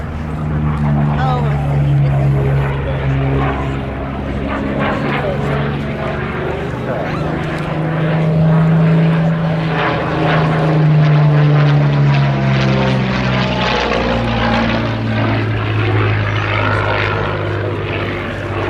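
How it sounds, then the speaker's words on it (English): A Curtiss P-40C Warhawk propeller fighter flying at the Duxford Battle of Britain airshow, a loud sustained piston-engine drone rising and falling in pitch as it passes, with a commentator talking over it. "This is a P-40C model"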